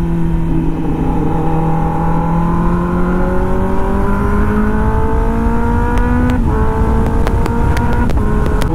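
Motorbike engine running steadily at speed on a highway, a continuous close droning hum with slowly rising pitch as it accelerates, a few sharp ticks near the end.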